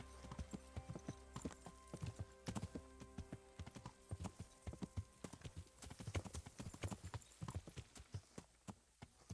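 Horse hooves clip-clopping in Kingdom Come: Deliverance, a steady, rhythmic trot of sharp hoof strikes, fairly faint, heard alone with no talk over it.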